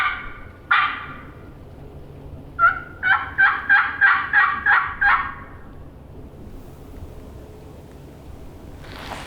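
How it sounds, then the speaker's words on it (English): A wild turkey gobbles in the woods, one short call followed by a rapid rattling series of about seven pulses, moderately distant and clear against quiet background. "I just heard a gobble."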